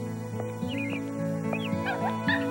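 A puppy yips and whimpers in short, high bursts, several quick barks spread over a few seconds.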